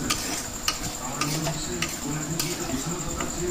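Washed, fried mung lentils sauté in a pan with a soft, steady sizzle, punctuated by light ticking clicks of a utensil against the pan at an irregular pace.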